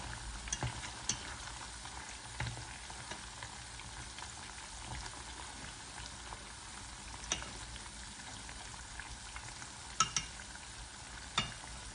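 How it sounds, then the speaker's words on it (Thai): Sweet potato strips deep-frying in oil and stirred with chopsticks, a quiet steady bubbling sizzle punctuated by occasional light taps and clicks, no voices. "เราก็เอาไม้ตะเกียบนี่แหละค่ะ คน ๆ ให้เขาแตกออกจากกันค่ะ เราก็ทอดไปจนกว่าจะกรอบนะคะ"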